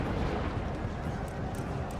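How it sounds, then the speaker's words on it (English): Massed cannons firing in the Empire: Total War battle, a dense, continuous rumble of booming shots blending into one another with no pauses. "Just thought I'd let those cannons fire first."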